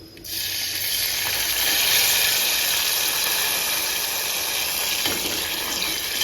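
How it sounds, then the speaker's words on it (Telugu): Tamarind juice hits a hot tempering for idli chutney and sizzles loudly, a dense, steady hiss that starts abruptly and holds for about six seconds, close and with no talk. "ఈ చింతపండు రసాన్ని తాలింపులో వేసి"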